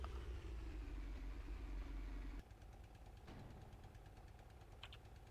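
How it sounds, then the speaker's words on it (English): Broken-down tank engine in Valkyria Chronicles, a rough rumbling idle with knocking that suddenly drops to a quieter, uneven chug partway through, no voices present. "Did my engine break? Okay,"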